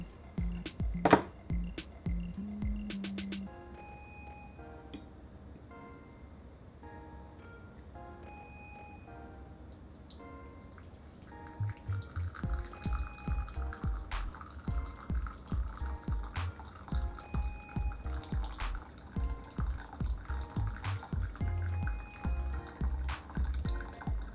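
A Napoletana flip coffee pot brews and is then poured into a cup. Faint drips and trickles come first, then a steady, splashing stream of liquid filling the cup, close and unaccompanied.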